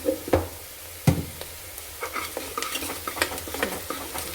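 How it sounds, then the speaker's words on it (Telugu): Turmeric being stirred into browned onions frying in a pan, with a few scraping strokes of a spoon against the pan over a soft, steady sizzle, close and fairly quiet. "పసుపు కూడా మంచిగా కలుపుకోవాలి"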